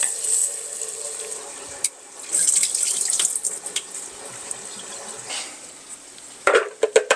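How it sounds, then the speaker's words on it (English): Tap water runs into a metal pot being filled for pasta, a thin hissing stream with splashes and clinks of the pot, moderately close, with pauses and a few knocks in a kitchen. "I'm going to fill this with water because we're going to heat up some pasta."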